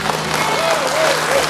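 Audience applause at a Mongolian concert for a singer, a brief burst of clapping over a steady crowd wash, with a voice talking over it.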